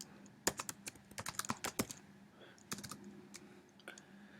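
Close keystrokes on a computer keyboard in irregular bursts of quick clicks, a dense flurry early on and then sparser taps, in a quiet room.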